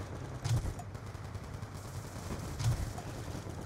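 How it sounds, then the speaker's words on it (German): Gunfire in the Black Ops 2 shooter video game: two distinct loud shots about two seconds apart over a steady low rumble of game ambience. "Ich schieß mal hier ein bisschen wahllos rein"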